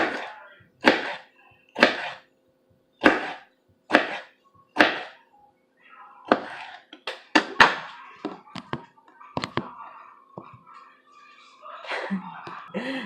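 A knife slices through tomatoes on a cutting board in a home kitchen, a series of sharp, evenly spaced cuts followed by quicker, irregular chopping taps, close and clear.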